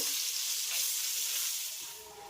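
Two large chopped onions fry in hot oil, giving a steady, close sizzling hiss that holds throughout and eases off slightly at the end.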